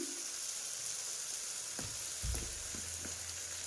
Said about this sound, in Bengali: বাটাটা মশলাটা একটু কষাতে থাকি